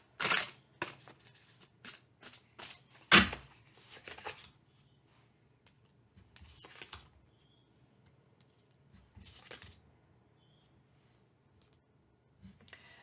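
Tarot cards being shuffled, a series of quick papery riffles and flutters in bursts, loud at first and then thinning out into sparse, softer shuffles.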